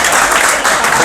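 An audience at a poetry gathering breaks into applause, a dense, loud wash of many hands clapping close by, steady through the short moment.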